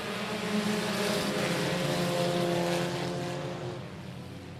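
A pack of race cars roars off at the start of the main event at a speedway, a loud sustained engine drone that eases slightly toward the end.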